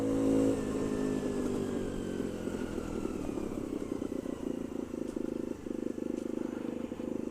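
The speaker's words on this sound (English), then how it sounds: "I'm just going to ease off throttle because it's not going to accelerate anymore going up that hill" A 50cc Bullit Hero motorcycle engine eases off the throttle while climbing a hill, a steady droning hum that drops slightly in pitch after a short louder burst at the start, with wind rumble throughout.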